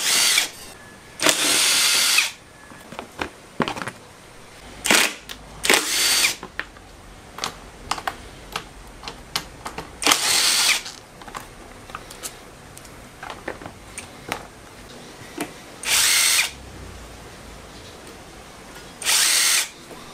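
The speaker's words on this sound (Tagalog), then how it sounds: "Sarap talagang gamitin itong impact driver. Mabilis. Para sa mga maliliit na tornilyo." Power tool whirring in short bursts as an impact driver backs out small screws on a 2001 Kawasaki KMX125 during teardown, close and loud, with clicks and handling noises between the bursts.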